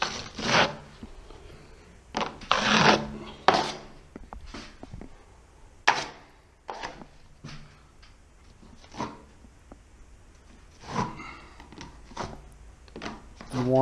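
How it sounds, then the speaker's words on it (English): A steel trowel skim coats drywall mud across a ceiling, starting in the corners, giving close, intermittent scraping and rubbing strokes in uneven bursts with short pauses between them. "Now we're ready to skim coat this ceiling. I'm starting in the corners."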